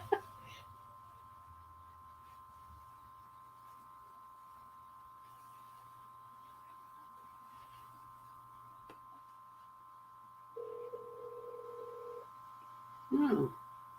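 Phone emitting a sustained tone, then a short higher beep near the end, faint and electronic over a quiet room with a low hum, no one talking.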